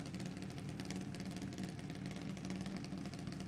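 A drag race car engine idles steadily with an even, lumpy rumble, faint and continuous with no voices.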